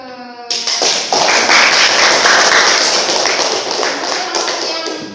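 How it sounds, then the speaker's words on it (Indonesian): Classroom students clapping for a presenting group, a dense, steady patter of many hands that starts abruptly after a brief moment of talk and continues loudly throughout, with faint voices mixed in. "beri tepuk tangan untuk kelompok ke"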